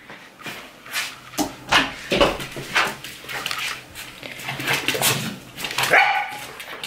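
Dogs bark indoors at home, a run of repeated sharp barks and yips with some whimpering, fairly close and loud, with no talking.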